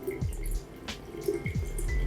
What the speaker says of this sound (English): now we are pouring this water in this bottle